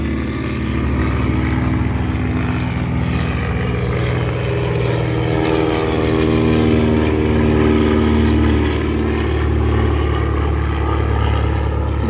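Two Bird Dog propeller aeroplanes pass by at an air museum display, a loud, steady, droning engine roar that holds strong throughout with a slowly shifting pitch.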